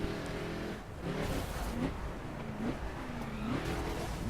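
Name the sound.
Chevrolet Camaro engine accelerating in video game The Crew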